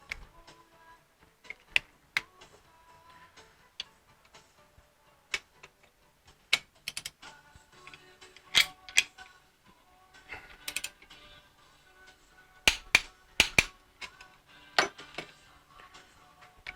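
A torque wrench clicks while bolts are tightened on a rear axle differential, sharp isolated clicks arriving in irregular bursts over faint background noise, with no talking.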